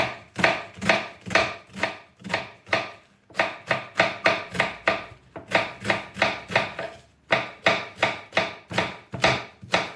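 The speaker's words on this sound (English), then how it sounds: "you can cut the thicker parts as well, these white, usually harder parts of the cabbage" A knife chops cabbage for sauerkraut on a board with fast, steady strokes, landing close and loud in three runs with short pauses between them. No voices.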